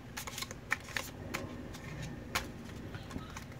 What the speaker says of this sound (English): I'm going to get a deck of cards and I'm just going to give it like some shuffles